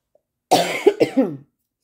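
A single close, loud fit of three or four raspy coughs run together, then silence.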